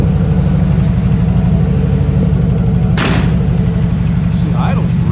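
A project car's engine idles loud and close, a steady low rumble with an even pulsing throb and one sharp bang partway through.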